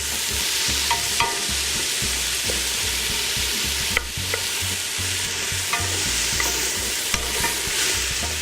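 Onions browning in a pot give off a loud, steady sizzle, broken by occasional soft knocks and scrapes as they are stirred. No one speaks.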